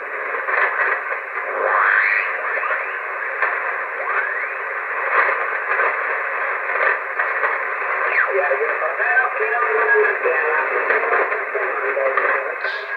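Narrowband shortwave radio hiss with faint, warbling distant voices and whistling tones drifting in and out, steady and continuous throughout, received through an antenna tuner-preselector.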